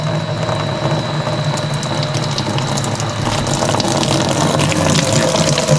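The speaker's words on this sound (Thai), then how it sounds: "ปั๊มทำงานอัตโนมัตินะครับตอนนี้" Solar-powered water pump running on an inverter with water flowing, a steady loud hum and rushing water throughout, no voices.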